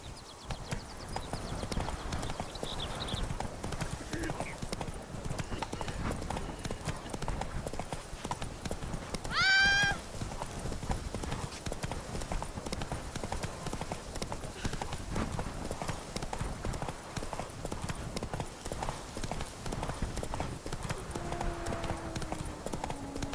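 Roach, the horse in The Witcher 3: Blood and Wine, galloping with a steady rhythmic clip-clop of hooves throughout, with a brief whinny near the middle.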